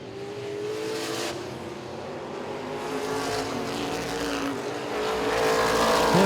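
Race cars roar around the oval at Baer Field Motorsports Park during a late-race stretch, a continuous layered engine drone with rising and falling pitches from several cars, growing louder toward the end.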